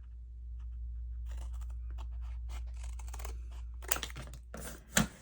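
Scissors cut paper for a handmade flamingo journal, with a few crisp snips clustered near the end over a low, steady background hum.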